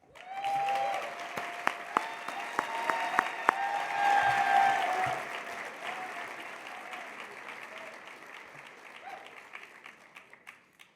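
A conference audience applauds as panelists walk onto the plenary stage, a full burst of clapping that swells quickly and then gradually thins and fades out.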